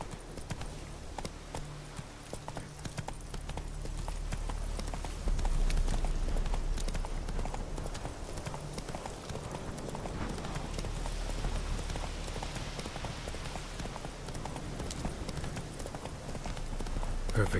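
Roach, the horse from The Witcher 3, gallops in a steady stream of hoofbeats that run the whole stretch, set over a constant low ambient bed of game sound.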